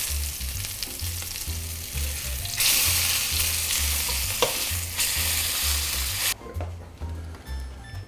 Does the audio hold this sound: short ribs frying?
yes